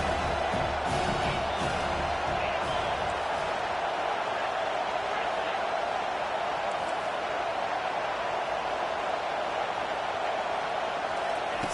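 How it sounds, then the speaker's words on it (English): Stadium crowd at a college football game against Penn State, a steady, loud roar of many voices that fills the whole stretch, with brief swells near the start, while a commentator talks over it. "This crowd trying to make life miserable for this offense."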